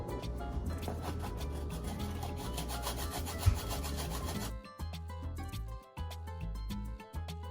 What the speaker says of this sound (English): I shred my garlic with this, and I am going to shred this also.